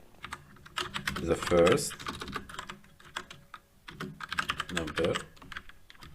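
Rapid keyboard typing clatters continuously at close range while someone talks over it in two short phrases, the keys audible throughout, as Kotlin code is entered.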